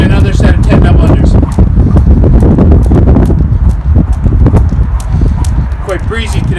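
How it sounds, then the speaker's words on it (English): Gusty outdoor breeze during a jump rope double-under workout: loud, continuous low buffeting across the microphone, with rhythmic rope taps and a voice talking underneath. "Quite breezy today."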